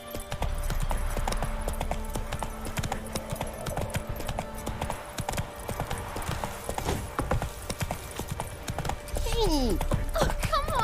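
In The Witcher, the horse Roach gallops with continuous, even hoofbeats close up, under game music and a brief whinny near the end, with a voice briefly heard.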